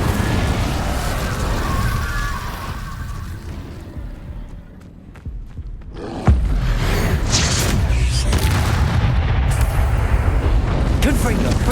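An Incendio fire spell is cast in the video game Hogwarts Legacy: a loud, rushing, roaring burst of flame surges abruptly after a quieter lull, with continuous crackling, booming texture.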